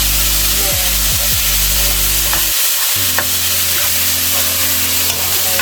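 Kimchi fried rice sizzles loudly in a pan with steady frying hiss, broken by a few scraping stirs and a brief pause before the sizzle resumes.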